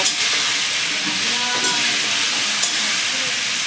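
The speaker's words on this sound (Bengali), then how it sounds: "হলুদ গুঁড়ো দিয়ে দেবো দিয়ে ভালো করে নাড়াচাড়া করে কষিয়ে নেব" Vegetables fry with salt and turmeric while being stirred, a dense, steady sizzle with scraping and clinking of the spoon against the pan, heard close and continuous without talk.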